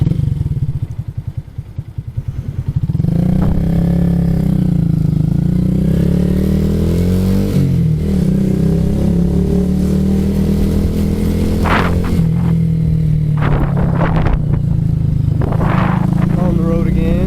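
A 2026 Honda Grom motorcycle rides down the road, its small engine droning loud and close at a steady pace, with a short dip early on and a few clattering bumps later.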